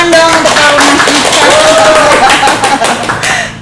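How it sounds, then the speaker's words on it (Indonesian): A crowd claps for cadets, a loud burst of applause with rapid overlapping claps, and a voice speaking over it. "Tepuk tangan dong untuk taruna kita"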